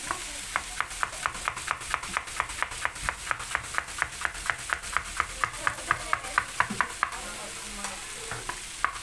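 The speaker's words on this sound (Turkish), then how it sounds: "Şimdi ben soğan söğüş yapacağım." An onion being thinly sliced for homemade chicken doner, with a fast, even run of crisp knife strokes on a cutting board, close and clear with no talking.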